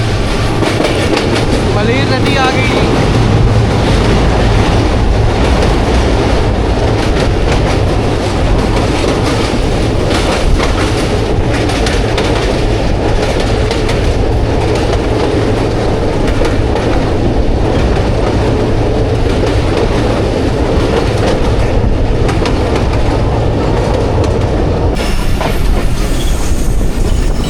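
A Hazara Express passenger train rolls over the tracks near Malir River and Landhi Junction in Pakistan, its loud, steady clickety-clack and rumble filling the carriage continuously while a passenger talks over the noise.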